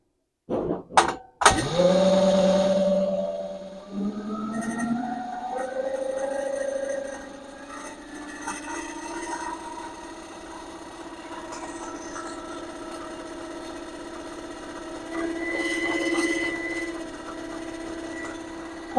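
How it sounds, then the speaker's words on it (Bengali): A permanent magnet generator powering heaters and lights at 50 volts starts up after a few sharp knocks, then settles into a steady whirring hum with a tonal whine that swells slightly again later on. "অলরেডি আমি মেশিনটা স্টার্ট করতেছি"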